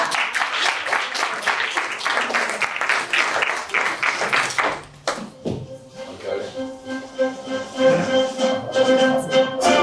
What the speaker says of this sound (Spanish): Un aplaudiment i continuem.